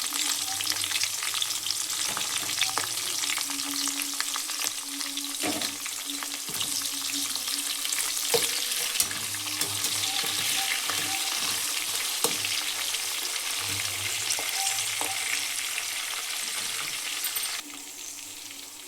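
Curry leaves sizzle and crackle in hot oil in a pan, a steady close frying hiss with scattered pops and occasional stirring, with no talk.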